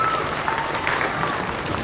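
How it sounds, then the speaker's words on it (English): At a children's chemistry show at the Kentucky Science Center, an audience applauds steadily for a participant. The clapping is dense and fairly distant, with no clear voices over it. "Let's give him a round of applause."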